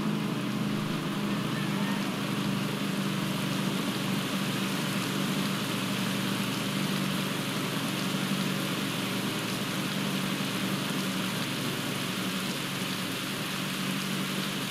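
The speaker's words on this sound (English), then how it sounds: "And now it's raining." Steady rain hisses continuously during a breakaway stage in the cycling game Pro Cycling Manager 2020, an even, unbroken wash of sound with no speech.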